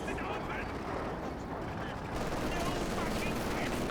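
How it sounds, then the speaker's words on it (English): Dense, continuous battle noise from a captured MG42 machine gun firing in Company of Heroes 2, a rapid rumbling roar that stays loud throughout, with a voice talking over it. "Grenadier is getting hit by the MG42, the captured one"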